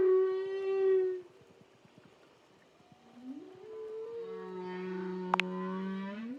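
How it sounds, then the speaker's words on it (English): A sperm whale song record playing in a video game: long, drawn-out tonal moans and whistles that rise and slide in pitch, loud at the start, then a quieter low drone building into overlapping calls. "Track 3, Song of the Sperm Whale."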